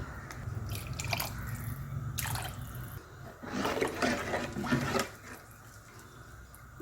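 Soaked tamarind water is poured into a pot of pepper rasam, giving soft splashing and trickling close by at a low level, with a few drips and clinks between pours.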